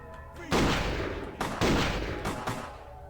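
Gunfire in a Vampire: The Masquerade – Bloodlines playthrough: two loud, close booming shots about a second apart, each with a long ringing tail, a third burst following near the end.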